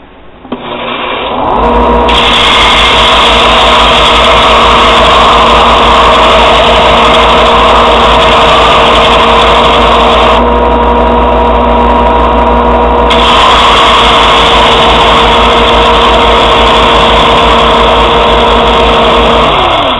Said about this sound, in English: So turn the sander on, put the blade down there, remove the burr